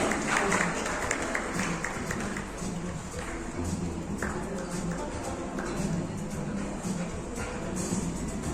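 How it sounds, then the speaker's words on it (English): Guests at a wedding reception at a club and resort in Pune applaud the couple: steady, dense clapping from a crowd that runs the whole time, with faint voices mixed in. "So let's invite the couple amid our loud round of applause."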